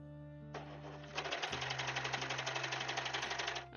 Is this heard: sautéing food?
no